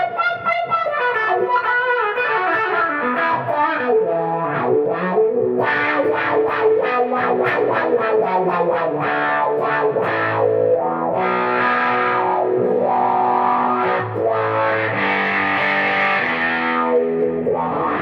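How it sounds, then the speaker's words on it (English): Electric guitar played through a Fuzz Face and a Supermoon pedal with a wah switched on, thick distorted notes and chords with sweeping vocal-like filter swells, loud and continuous with no talk. "So that's the Fuzzface with the Supermoon, and kicking on the wah."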